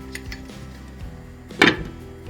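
A lid set onto a pot of Georgian kharcho soup with rice, giving a single bright metallic clank after some faint, light kitchen knocks.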